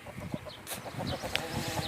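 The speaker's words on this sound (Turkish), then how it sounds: "Tavuklar da oraya gidiyor" Several chickens cluck softly in short, scattered bursts, with a farmyard bustle in the background.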